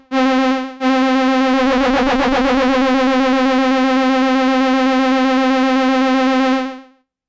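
Novation Bass Station 2 synthesizer playing a violin-like patch with LFO applied, a loud sustained note that briefly cuts out and restarts, wavering with vibrato before fading out.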